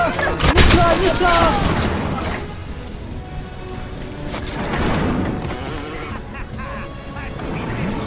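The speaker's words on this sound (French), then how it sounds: "Mitrailleuse" Bursts of machine gun fire and impacts in the video game BioShock, loud and dense at first then easing into scattered shots, with a person talking over parts of it.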